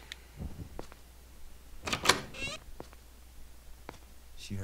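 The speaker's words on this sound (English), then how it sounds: "And she closed the door." A door shuts with a sharp thump and rattle in a home, a few quieter knocks and clicks before and after, faint and close, with a low background hum.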